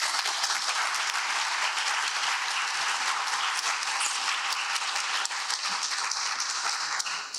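Sustained, dense audience applause at a lecture on global issues, welcoming Ambassador Munter to the stage, steady clapping from a large crowd throughout.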